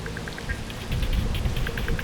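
Heavy rain falls during a walk through Tokyo, producing a dense, steady hiss of rain hitting the ground and surfaces close by. A brief run of light tapping comes through over the constant downpour.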